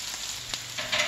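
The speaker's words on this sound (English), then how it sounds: "we'll cook them for 1 to 2 minutes on each side or until they're golden and crispy" Food pan-fries until golden and crispy, sending up a steady close sizzle and crackle with a few sharper pops and a louder burst near the end.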